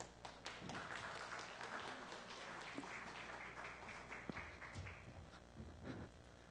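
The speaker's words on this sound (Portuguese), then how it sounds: "Vamos bater umas palmas aí pra..." Faint, loose hand clapping from a small audience at a musicians' meetup, uneven taps and thuds with a few louder claps, heard at a distance and quite quiet.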